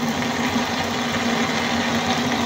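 A steady mechanical hum with a low drone runs continuously, a sharpened drill bit boring a hole through metal during a custom motorcycle build, close and constant with no talking.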